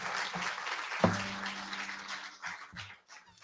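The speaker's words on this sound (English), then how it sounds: "How about a round of applause for Bob Manley?" An audience applauds Bob Manley at a Thanksgiving Eve songwriter show, a short burst of moderate clapping after a brief sharp knock, fading toward the end.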